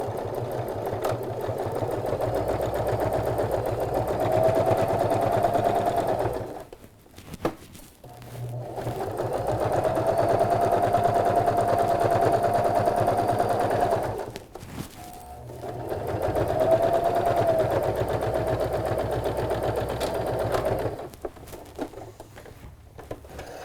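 A sewing machine stitches a sleepover bag, running forward and back in three sustained bursts of steady whirring with brief pauses between them.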